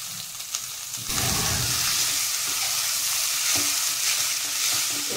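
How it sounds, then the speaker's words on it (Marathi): Boiled potatoes are stirred and sautéed in a hot pan for aloo bread patties, heard as a steady, close sizzle and frying hiss that starts suddenly and continues throughout, with no talk. "आणि आता हे बटाटे घालून घेते आणि हे चांगलं परतून घेते तोपर्यंत"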